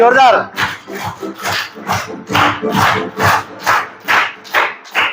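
An audience at a Jaipur awards and welcome event for top-ranked achievers claps in a steady, loud rhythm of roughly two beats per second for about five seconds, with a brief voice at the start.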